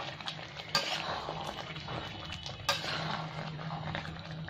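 Murgh shalmi chicken curry is stirred in a pan with a soft scraping and sizzling sound, and a couple of sharper clinks ring out as the spoon knocks against the pan.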